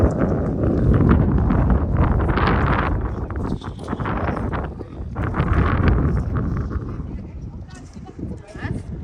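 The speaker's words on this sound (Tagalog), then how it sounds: "Lakas ng hangin, no?" Strong wind blows at the Blue Eye spring in Albania, heavy gusts roaring and buffeting the microphone in loud surges, with people talking through it.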